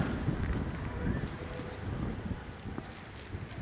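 Wind rushes and buffets against the microphone in low rumbling gusts on a hill trek at Madhugiri, fairly quiet and continuous, with no clear voices.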